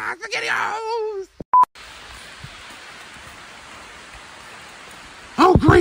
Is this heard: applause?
no